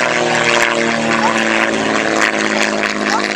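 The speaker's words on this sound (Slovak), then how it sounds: "Vidíte lietadlo nemeckej armády sa blíži, vidíte jeho kríže, pridal plyn a blíži sa za Polikarpovom" A German military airplane closing in behind a slow Polikarpov biplane, its propeller engine droning loud and steady at close range with a constant harmonic whine and no break.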